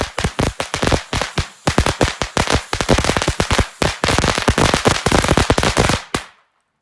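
A pink-tipped crackling firework gives off a very loud, rapid barrage of sharp cracks and pops that runs unbroken for about six seconds before stopping suddenly.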